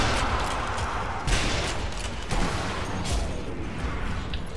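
Gunfire in Sniper Elite NZA, a co-op zombie shooter: a few distant-sounding shots and booms spread across a dense, noisy battle backdrop, fairly muffled rather than sharp.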